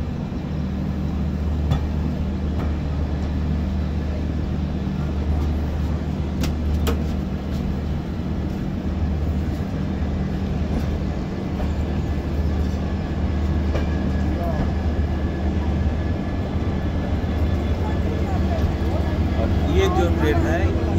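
A train rumbles at Guwahati station under a steady low drone with faint rail clatter throughout, while a person talks over it.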